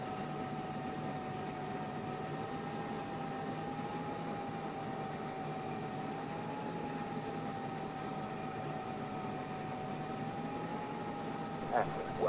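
Jet aircraft engine roaring steadily as it rolls for takeoff in the Falcon 4 BMS flight simulator, a continuous loud drone with a faint whine, radio voices intermittently over it.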